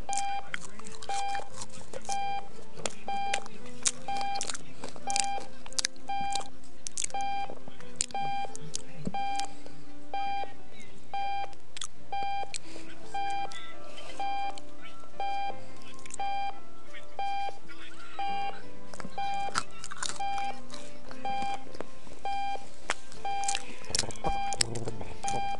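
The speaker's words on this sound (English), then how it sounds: "Screw the alarm." An alarm in the video game Octodad beeps over and over in a steady, rapid pattern, loud and continuous across the whole stretch, sitting among game sounds and clatter.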